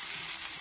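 Bacon warming in a hot pan gives a steady, dense sizzle and crackle up close, continuous and even throughout with no voices.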